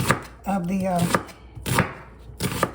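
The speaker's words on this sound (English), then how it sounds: "next thing I'm gonna cut up is my red onions" A knife chops red onions on a cutting board in a few sharp, evenly spaced strikes, heard up close with no talk.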